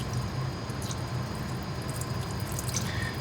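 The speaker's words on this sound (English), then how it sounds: "I'll turn my coolant on And I'll just let that coolant run across there so that I won't get any rust" Machine coolant (Trim E206) runs across the metal surfaces of a machining setup, making a steady, even hiss of flowing liquid with faint drips scattered on top.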